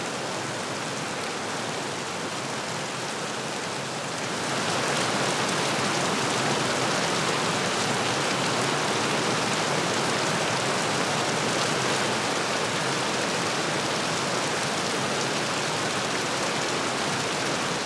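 Rain patters steadily on tent canvas in São Tomé and Príncipe, a dense, even hiss of drops that grows slightly heavier after a few seconds and continues unbroken, close and without any voices.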